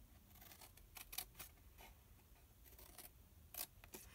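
Scissors snipping cardstock for a pizza-box style gift box, a series of quiet sharp cuts in irregular bursts, close up with no talking.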